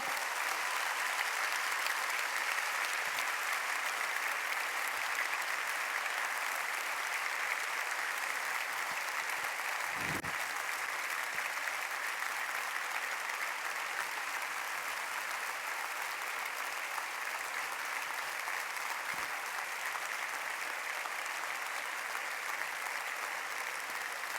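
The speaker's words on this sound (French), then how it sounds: "Nous pensons très, très, très fort à Valentin et je vous demande de l'applaudir" A graduation ceremony crowd claps steadily and at length, a continuous wash of applause from a large audience with barely any change in intensity.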